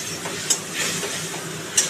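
A spice paste for a light Bengali fish curry is stir-fried in a pan, giving a steady close sizzle with a couple of quick spoon scrapes and taps against the pan.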